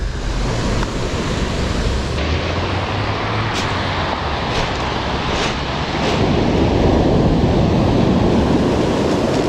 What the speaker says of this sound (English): The waves are mental.